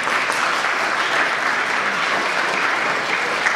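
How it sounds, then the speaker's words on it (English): A graduation ceremony audience applauds a graduate, a steady, full spread of many hands clapping at constant loudness with no voices on top. "You can clap."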